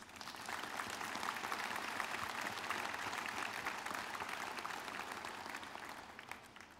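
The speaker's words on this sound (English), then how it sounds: "Please recognize with your applause current and former members of the Peirce College Board of Trustees." A commencement audience at Peirce College applauds its board of trustees, dense sustained clapping from a large crowd that holds evenly for several seconds before tapering slightly at the end.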